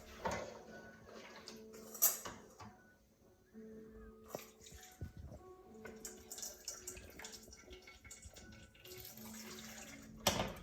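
Elderberry syrup is strained through a jelly bag strainer into a bowl, giving a soft, intermittent trickle and splash of liquid with faint clinks, close and quiet, without speech.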